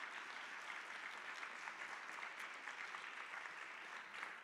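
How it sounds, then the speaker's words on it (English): An audience at a university debate on public funding for DEI programs in higher education gives the speakers sustained applause, a dense, even wash of clapping that holds steady for the full few seconds. "Let's give a round of applause to"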